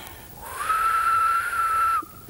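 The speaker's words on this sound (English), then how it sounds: "and this time whistle" A person whistles one long, steady, level note lasting about a second and a half, clear and close against a faint background hiss.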